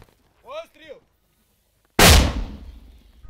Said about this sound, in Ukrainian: Після пари-трійки пострілів українського міномету